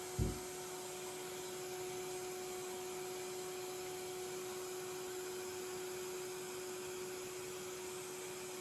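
A shop vacuum in a woodworking shop runs at a steady, loud whine with a constant hum, alone after a brief thump at the start.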